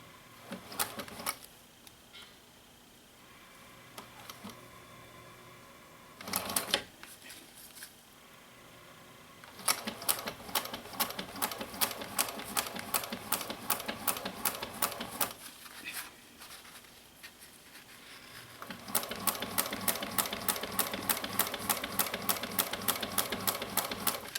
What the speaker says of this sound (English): I'm going to stitch about 1/8 of an inch from the edge